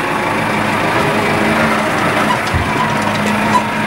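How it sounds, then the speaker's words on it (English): A farm tractor drives along with a continuous, loud engine drone and rattle close at hand. The noise is steady, with no talking over it. "driving the tractor with Jack Cornock filming me."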